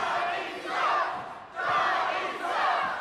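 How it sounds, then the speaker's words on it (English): A wrestling arena crowd at a troop salute event shouts and jeers at a wrestler named Johnny in two swelling roars, loud and massed with overlapping voices. "Crowd letting Johnny know what they think."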